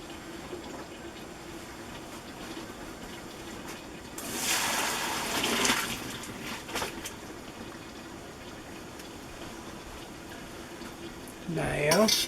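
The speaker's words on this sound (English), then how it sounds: "So now, I'm going to go ahead and drain the water." Pasta water is poured out of a pot to drain it, a burst of rushing, splashing liquid lasting a couple of seconds, followed by quieter kitchen sounds, a brief clank and someone talking near the end.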